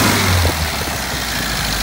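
A rebuilt engine in a 1960 MGA speedster, fitted with a 17-pound flywheel and about 9.2 to 1 compression, runs loud and close just after its first start, with a steady idle and slight revving.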